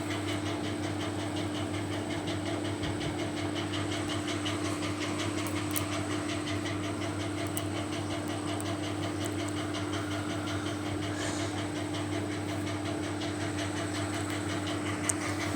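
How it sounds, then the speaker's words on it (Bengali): A mixer grinder grinds soaked lentils, giving a constant loud motor drone with a buzzing whine. It holds steady throughout with no pauses or speech. "প্রথমে ডালটাকে মিক্সার করে নেবো"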